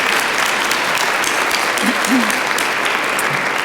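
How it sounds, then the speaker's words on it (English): Dense, steady applause fills a large hall at a university doctoral commencement ceremony, an unbroken wash of clapping from a big crowd throughout. "Let's give him a round of applause."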